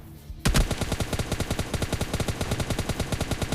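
Sustained automatic gunfire sprayed in a shooter video game, a loud rapid burst of evenly spaced shots that starts abruptly and continues without pause.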